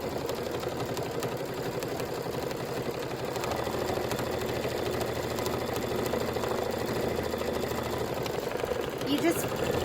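Embroidery sewing machine stitching a quilted pillow border, a fast steady mechanical whir and rapid needle clatter running continuously at close range, with a faint voice intermittently.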